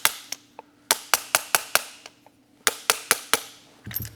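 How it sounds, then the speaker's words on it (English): A plastic handle taps a DU bushing into a KS LEVCi or LEV Integra dropper seatpost, giving a dozen or so sharp, close clicks in uneven bursts with quieter taps between, ending in a brief scuffing rattle. "Tap it in."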